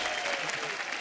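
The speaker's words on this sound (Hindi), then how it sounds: "तालियां भाई।" Studio audience on a comedy talk show clapping in a brief, dense burst of applause with a faint voice carrying over it.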